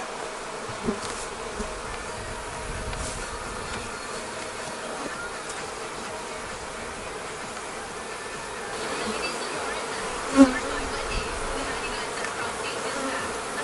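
Honey bees swarming around an open hive, a continuous low buzzing hum close by with a few brief louder bumps, no talk.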